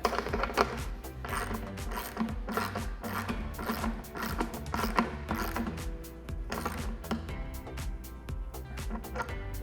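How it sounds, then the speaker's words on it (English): A hand ratchet with a 9/16 socket working on an intake plug of a Ford F-150, quick repeated clicking strokes close by, fairly quiet, with no talking. "our plug is going to use a 9/16 socket"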